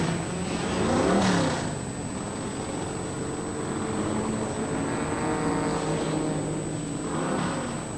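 Racing cars circle the Bay Park track, their engines droning steadily at mid distance, with a couple of louder passes swelling near the start and again toward the end, and no voices.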